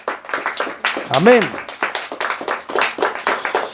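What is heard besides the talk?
church congregation clapping hands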